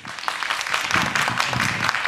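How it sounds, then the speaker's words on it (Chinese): A press-conference audience at the 56th Golden Horse Awards nominations announcement claps to welcome two presenters on stage, a steady, dense wash of applause that holds for about two seconds. "马上就要请各位用最热情的掌声来欢迎我们今天两位揭晓嘉宾王静、吴念轩"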